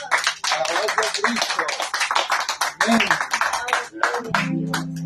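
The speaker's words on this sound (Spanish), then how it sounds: "Un aplauso para el Rey de Reyes." A church congregation applauding during a Sunday worship service, with a dense burst of many hands clapping close and loud, thinning toward the end as a sustained low tone enters.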